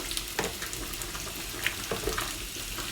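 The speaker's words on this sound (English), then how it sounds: "that's our soup coming up to a rapid boil" Chicken, leek and potato soup at a rapid boil in a pot gives a steady, dense bubbling hiss throughout, with occasional louder pops and splashes rising above the churn.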